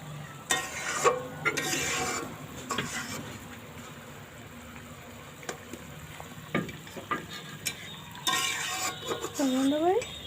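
Cumin paste fries in a pan with a soft sizzle while being stirred, scraping bursts coming and going, fairly faint and close, with a voice speaking briefly and some clattering near the end.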